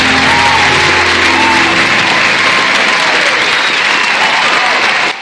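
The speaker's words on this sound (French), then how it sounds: "sous vos acclamations, je vous demande d'accueillir, s'il vous plaît, l'orateur de ce soir" Audience at an evening church conference applauds and cheers loudly for the night's speaker, a dense continuous roar of clapping with scattered whoops that holds steady, then drops sharply at the end.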